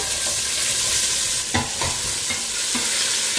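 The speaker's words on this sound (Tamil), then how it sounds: "இனி வெட்டி வச்சிருக்கிற பெரிய வெங்காயத்தை சேர்த்துக்கொள்ளுங்க" Chopped big onions frying with curry leaves and cumin for a Batticaloa chicken curry, a steady loud sizzle with a few stirring scrapes and knocks of a spoon in the pan.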